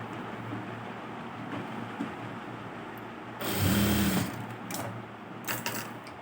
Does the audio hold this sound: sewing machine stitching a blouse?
yes